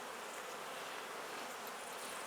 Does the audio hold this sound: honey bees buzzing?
yes